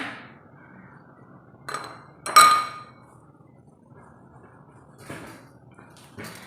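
An ice cube drops into a glass prepared for gooseberry (nellikka) juice, giving a few sharp glassy clinks spread across the moment, the loudest one near the middle, in an otherwise quiet kitchen.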